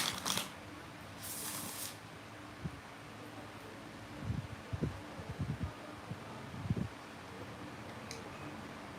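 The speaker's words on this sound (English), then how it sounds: "clumsy to shuffle" Large tarot cards are shuffled with soft irregular riffles, taps and brushing rustles, faint and close, scattered across a quiet background.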